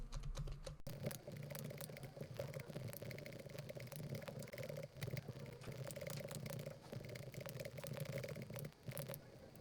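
A computer keyboard clatters with quick, uneven keystrokes as a program is typed, close and fairly faint over a steady low hum.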